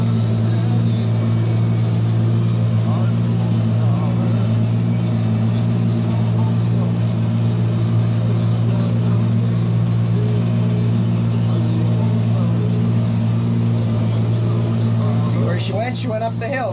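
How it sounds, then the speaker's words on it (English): A skid steer engine runs steadily on a farm with a John Deere tractor nearby, a loud constant low drone that never lets up, with some rustling and a brief burst of other noise near the end. "skid steer."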